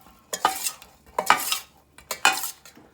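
A spoon stirs turmeric through a pot of hard-boiled egg curry in three distinct scraping passes, each a short metallic rasp against the pan, close and clear with quiet gaps between.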